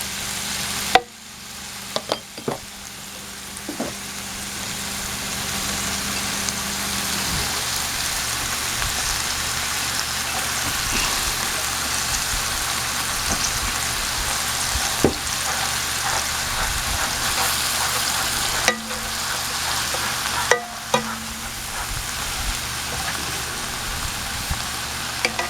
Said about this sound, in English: Add in the celery.